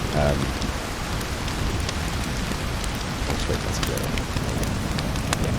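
Video game rain in SCUR: steady, dense rain hiss with a deep low bass rumble underneath, continuous and even throughout, with scattered drip-like ticks.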